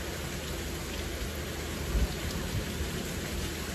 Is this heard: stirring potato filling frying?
no